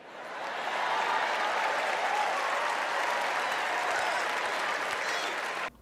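A comedy show audience breaks into loud, sustained applause with some cheering, a dense wash of clapping that swells quickly, holds steady and then cuts off.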